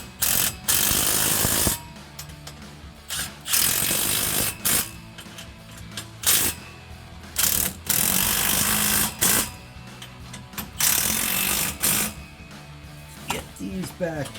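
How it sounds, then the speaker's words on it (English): A ratchet wrench tightens the exhaust clamps on a 2010-2015 Camaro SS with a BBK 2-3/4-inch X-pipe, giving bursts of loud, close clicking strokes separated by brief pauses. "So we're gonna tighten these clamps up."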